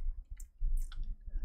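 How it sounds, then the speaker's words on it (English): A computer mouse clicking in a recording software session: a handful of short, quiet, close-up clicks spaced irregularly over a low background rumble. "So you just open it up by clicking on it here."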